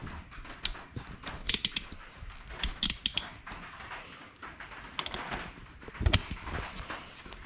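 A torque wrench tightens a bolt to 25 Newton meters during an oil change and service on a Mk5 VW Golf, producing quiet, irregular ratcheting clicks and creaks spread across several seconds.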